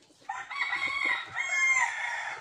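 A gamefowl broodcock rooster lets out one loud, clear crow close by, a drawn-out cock-a-doodle-doo lasting about two seconds, with no talking.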